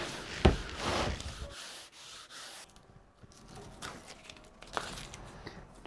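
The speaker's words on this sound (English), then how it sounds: "This is just a little sanding block that I made." An 80-grit homemade cork sanding block rubs along guitar binding in several quick, close scratchy strokes, followed by quieter intermittent scraping.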